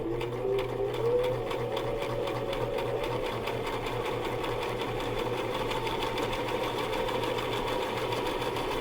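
A sewing machine stitches fabric in a steady, rapid mechanical chatter close to the microphone. It runs continuously throughout at a moderate level with no talking.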